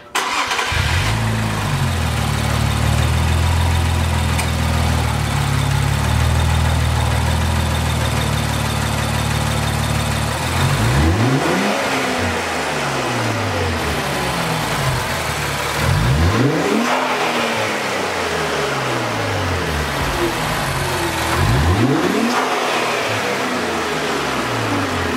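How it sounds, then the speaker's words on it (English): An Infiniti Q60 3.0t engine with a cold air intake idles with a deep rumble, then revs up three times in sharp bursts, each rising and falling back, with an airy intake whoosh. "So I'm going to give it a couple revs here."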